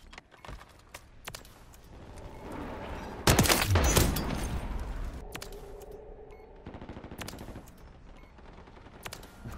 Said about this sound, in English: Why y'all keep running into that sentry gun, bro?